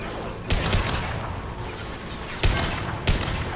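Dense video game gunfire from Mass Effect 2 fills the clip, a sustained loud fusillade with sharper bursts punching through near the start and again toward the end.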